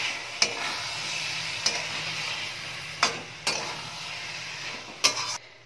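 Spinach curry with fish head cooking in a pan, a soft sizzle underneath while a spoon stirs, with several sharp clinks of the utensil against the pan at irregular intervals.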